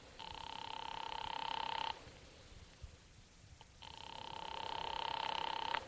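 Old-fashioned telephone ringing through an operator's line: two long, steady electric rings, each about two seconds, separated by a quiet gap, heard clearly as if down the receiver.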